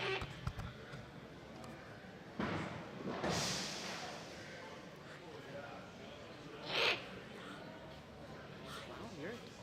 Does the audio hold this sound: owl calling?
yes